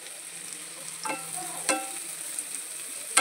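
Grated ginger and chopped green chilli go into butter with chopped onions for pav bhaji, giving a quiet sizzle with a few sharp stirring scrapes and clinks against the pan.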